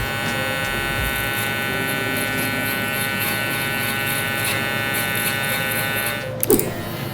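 A steady, close electric trimmer buzz runs throughout while tapping in a haircut line, with a brief clatter near the end.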